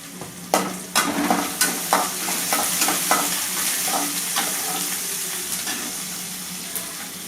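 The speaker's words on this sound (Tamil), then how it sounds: "வெங்காயம் வதங்கினதும் பூண்டு போட்டுக்கலாம் மஞ்சள் தூள் சிறிது" Onions sautéing with garlic and a pinch of turmeric in a pan for mutton curry, a dense continuous sizzle broken by regular scraping knocks of a spoon stirring, close and fairly loud.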